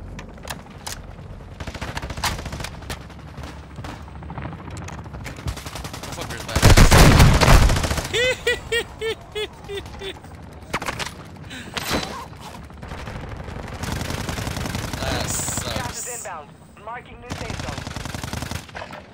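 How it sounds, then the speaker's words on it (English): The M13B rifle firing during a Resurgence match on Ashika Island, with loud bursts of automatic gunfire and single shots in the battle-royale shooter, plus a heavy blast near the middle. A voice talks intermittently throughout. "That gun is way too loud."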